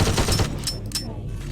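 Gunfire with regular bullets from a pistol in System Shock 2, a dense burst of sharp loud shots crowding the first half-second, then thinner cracks and ringing game noise trailing off.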